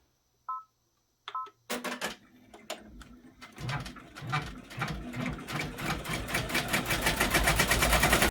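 An embroidery machine gives a few short electronic beeps from its control panel in a quiet room, then restarts and runs with a fast, steady mechanical stitching chatter that grows louder and denser toward the end.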